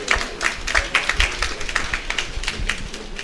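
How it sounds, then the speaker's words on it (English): An audience applauds a gentleman, a neurosurgeon, at a brain institute gathering, with dense, steady clapping from a roomful of people filling the space, fairly loud and close throughout. "Let us have a round of applause for the goodly gentleman."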